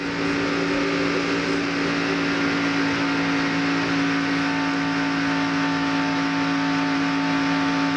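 NASCAR stock cars racing at Talladega Superspeedway in the 1997 Winston 500, a steady loud engine drone with sustained tonal whine, no break.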